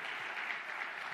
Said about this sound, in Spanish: Den un fuerte aplauso al pastor. Applause to Pastor Randy.